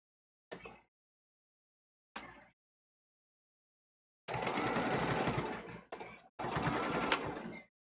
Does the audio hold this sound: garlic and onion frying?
no